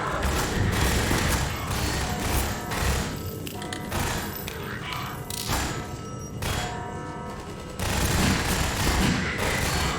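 Sustained gunfire in Half-Life 2 rakes toward the player, dense overlapping shots and thuds filling the whole stretch with a loud, continuous fusillade that briefly dips mid-way and then surges again near the end.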